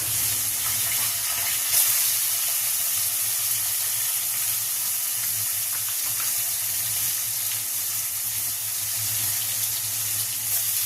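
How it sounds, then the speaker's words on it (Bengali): Bitter gourd frying in oil in a pan in a Bengali home kitchen, giving a steady, even hiss and sizzle that runs throughout with a low hum underneath. "উচ্ছেটা আগে হালকা করে ফ্রাই করে নেব।"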